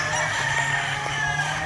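Native chickens on a farm cluck and crow in a steady, moderately close chorus with no talking.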